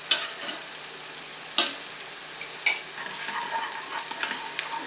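Onions and vermicelli frying in a pot with a steady soft sizzle, broken by a few sharp clinks and scrapes of a spoon stirring.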